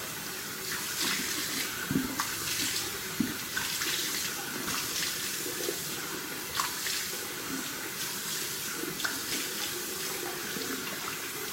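A tap runs continuously while a face is washed, giving steady close splashing with small irregular splats of water against the sink, alone and without talk.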